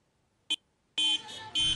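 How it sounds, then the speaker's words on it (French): Car horns from a wedding convoy honk in short blasts: one brief beep, then two longer overlapping honks close by, with the cortège's vehicles heard at street level. "Klaxons, youyous et cris de joie."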